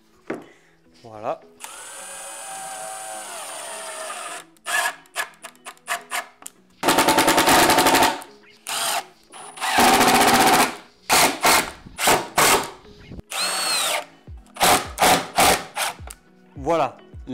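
A power drill drives screws into a wooden guide strip for a circular saw guide rail, running in short whirring bursts and longer high-pitched spins separated by pauses, loud and close.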